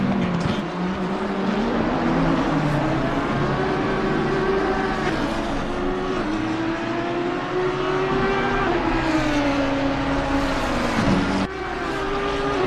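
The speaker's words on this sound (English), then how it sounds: "It looks like the Audi is fighting a McLaren here, while defending against it as the McLaren tries to attack." Audi and McLaren race cars battling on track at Suzuka make loud, continuous engine drones with pitches sweeping up and down through gear changes, layered over steady background noise and occasional commentary voices.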